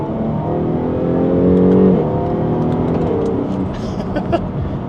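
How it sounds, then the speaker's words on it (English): A Jaguar F-Type V6 accelerates hard, the engine and exhaust rising in pitch through a gear, then an upshift drop and a second climb. The sound is loud and close, with some crackle near the end. "Now, you get great upshifts, you get great exhaust tone, and the engine just combined together."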